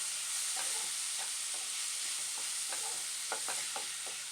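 Spoon scrapes and taps through an egg bhurji mixture with chopped tomatoes in a pan, irregular stirring strokes over a soft constant sizzle, close and fairly quiet, with no talking.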